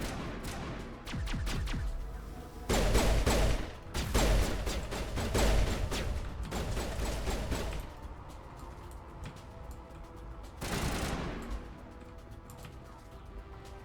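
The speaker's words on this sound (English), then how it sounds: "Nice job shooting." Gunfire crackles in the Mass Effect video game, with rapid volleys of shots in bursts, some louder and closer, separated by quieter gaps.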